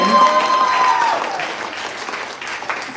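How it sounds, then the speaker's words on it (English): Steady applause from an audience, a dense wash of clapping that stays loud throughout and tapers slightly toward the end. "y'all can clap for that shit"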